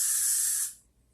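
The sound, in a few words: hairspray being sprayed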